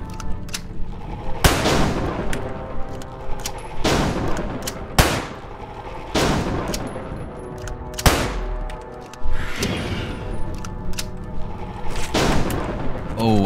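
Sniper rifle shots in Falsepine crack out loud and sharp, about eight widely spaced reports, each followed by a short decaying echo over a busy game background.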